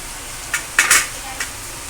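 Roasted masala going into a pan of bharangi leaf vegetable, heard as a few short, close scrapes and stirring strokes of a spoon against the pan over a low background hiss.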